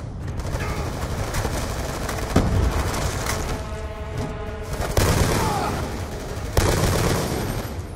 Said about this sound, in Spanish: ¡Escuché disparos adentro!